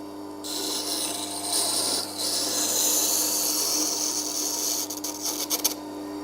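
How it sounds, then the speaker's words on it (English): A knife blade grinds against an abrasive on a sharpening jig, a steady raspy rubbing that runs nearly continuously, fairly close, with a brief dip partway and a few sharp scrapes near the end. "Let's go for another grind"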